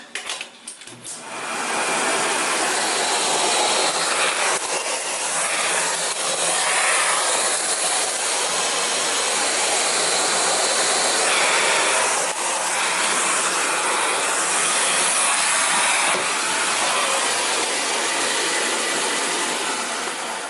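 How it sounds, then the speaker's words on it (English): After a brief rustle, a central vacuum system motor roars up and runs with a steady, loud, airy whoosh, holding constant until the end. "I'm just going to show you what that looks like with the central vacuum"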